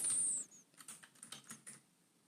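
A short burst of typing on a computer keyboard, a question being entered into a chat window: a dozen or so quiet, close clicks in an uneven rhythm, heard alone after a brief high electronic tone.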